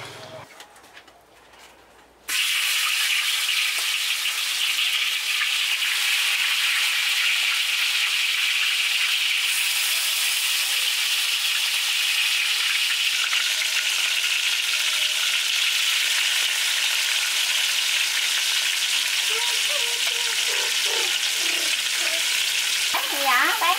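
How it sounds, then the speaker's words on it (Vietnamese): Pork ribs frying in a pan with lemongrass, a steady loud sizzle that starts abruptly and holds constant for the rest of the clip, with faint bird calls in the background near the end. "Để thịt, để sườn cho chiên đi."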